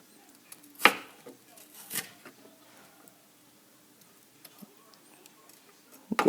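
A knife chops red onion on a cutting board for tacos, giving a few sharp, sparse knocks near 1 and 2 seconds and again at the end, with quieter light taps between.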